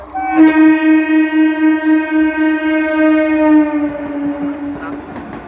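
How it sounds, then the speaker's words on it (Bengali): A passenger train's loud, sustained horn blares for several seconds up close, with a faint rumbling rhythm of the train underneath, at Jhaluarber railway station. "আমরা ভেবেছিলাম মালগাড়ি, কিন্তু এটা প্যাসেঞ্জার ট্রেন।"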